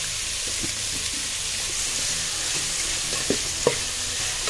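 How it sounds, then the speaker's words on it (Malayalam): Onion with a pinch of salt sautéing in a pan for an Arabian kabsa, a continuous bright sizzle with occasional soft stirring clicks, close and steady throughout. "ഉള്ളി ഒന്ന് മൂത്ത് വരട്ടെ."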